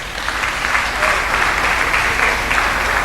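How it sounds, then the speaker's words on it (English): An audience at a research meeting applauds presenting teams, a dense, steady burst of many hands clapping that fills the room at full volume for several seconds without fading. "give them a round of applause"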